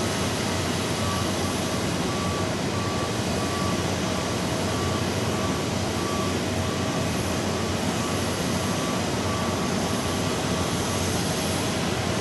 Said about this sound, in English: We've got an Airbus A380 departing and rolling now to Thessalonica.